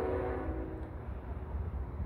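A CSX northbound autorack freight train approaches at Newburgh with a steady low rumble, and a faint horn tone sounds at the start.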